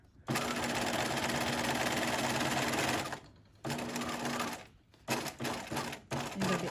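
A sewing machine runs in a long steady burst while stitching a welt pocket, then stops and restarts in several shorter runs separated by brief pauses, close and clear.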